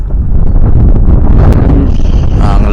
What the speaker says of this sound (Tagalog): Ang lakas ng hangin dito ngayon.